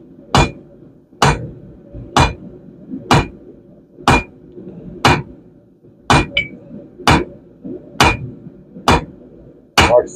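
Forging a point on a 5/8 steel stake, a steady series of about a dozen sharp ringing hammer blows on hot steel and anvil, evenly spaced, close and loud with no talk.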